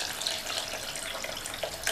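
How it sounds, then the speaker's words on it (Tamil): Water pours steadily into a pot of sambar on the stove, a short, continuous splashing stream without any talking. "இப்போது இது கூட தண்ணி சேர்த்துடலாம்."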